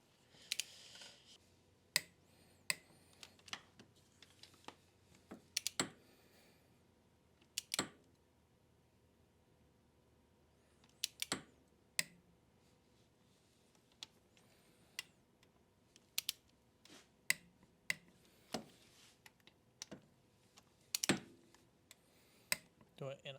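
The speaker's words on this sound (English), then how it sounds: "Now we'll go ahead and torque these cylinder head bolts down, 27 foot-pounds for all 6 of these." A torque wrench snugs down the six cylinder head bolts on a Yamaha Grizzly 660 engine during a rebuild, giving sharp, close clicks in an irregular series with quiet gaps between them.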